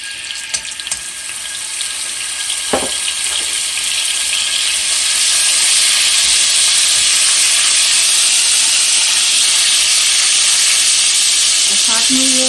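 Garlic hits a hot pan for spicy Sichuan beef noodles and sizzles loudly and steadily, the hiss swelling and holding for over ten seconds, close up, with a short clink near the start.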